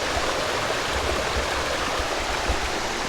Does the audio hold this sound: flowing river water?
yes